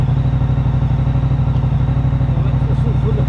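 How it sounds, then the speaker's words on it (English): A Moto Guzzi V100 motorcycle engine runs close by with a steady, throbbing low idle and a light mechanical clatter riding over it throughout. "you don't expect that sort of agricultural lurch when you put it into first gear"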